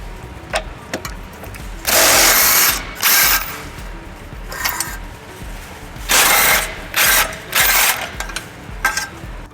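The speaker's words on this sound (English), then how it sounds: "using a 17mm socket, we're gonna remove 2 bolts holding the tow hook" A hand ratchet with a 17mm socket works the tow hook bolts loose on a 2016 Toyota Highlander, its rapid clicking coming in repeated loud bursts separated by short pauses.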